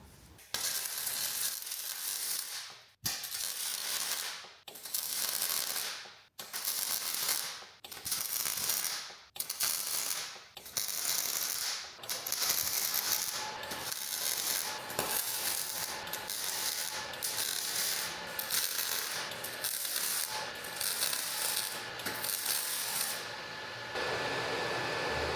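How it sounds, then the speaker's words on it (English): MIG welding with an ESAB Rebel 285 on a York rake under restoration: a loud, steady crackling sizzle runs in repeated bursts of a second or two, broken by short pauses, then continues almost unbroken for the final stretch. "So for welding today, we're going to be using the ESAB Rebel 285"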